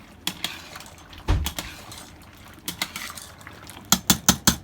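Pasta stirred in a pot of boiling salted water, several distinct clinks and knocks of a utensil against the pot over a soft bubbling background, ending in a quick run of four sharp taps.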